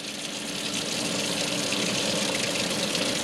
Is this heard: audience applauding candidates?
no